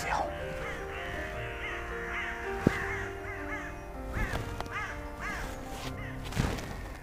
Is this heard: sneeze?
no